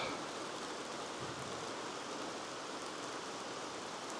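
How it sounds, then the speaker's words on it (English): Steady, dense Scottish rain pouring down without a break, a constant broadband hiss that holds an even level throughout. "We've got a lovely little Scottish downpour here."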